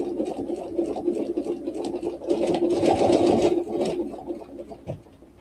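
A sewing machine stitches a quilt along a ruler template in quick bursts of rapid mechanical whirring, close and fairly loud, with the speed changing and brief pauses between runs.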